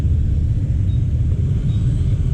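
Low, continuous rumble of road traffic near a viaduct station construction site in Balagtas, a steady engine drone with no distinct passing vehicles.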